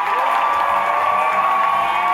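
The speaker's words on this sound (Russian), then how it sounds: "давайте искупаем аплодисменты на все команды сейчас прямо здесь" An audience at a KVN comedy contest in Tula claps steadily and densely, a loud continuous wash of applause with faint cheering, filling the whole moment without a break.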